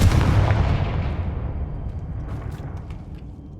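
A Confringo fire spell from Hogwarts Legacy bursts in a heavy booming blast that rumbles loudly at first, then fades over a few seconds into a lingering low roar with faint crackles and no speech.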